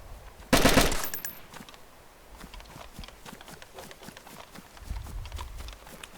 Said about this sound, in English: I'm shooting zombies at the moment.